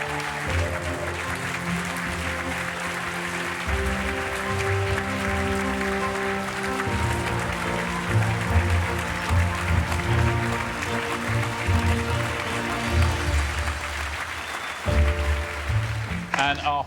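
A studio audience at the Child Genius final applauds the winner, Rahul, in steady, sustained clapping that runs throughout, mixed with loud tonal music and rising slightly in intensity toward the end.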